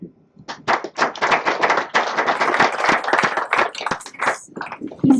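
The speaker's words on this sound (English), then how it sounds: "Please save your applause for after." Audience applause at a mayoral debate hosted in a high school, a burst of clapping from many hands that swells quickly, holds steady, and thins out toward the end.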